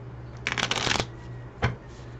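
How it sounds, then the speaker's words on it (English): A new Morgan-Greer tarot deck riffle-shuffled, a loud dense flutter of cards followed after a pause by a single sharp tap as the deck is squared, close and with no talking. "Since it's a new deck, we need to get it pretty shuffled."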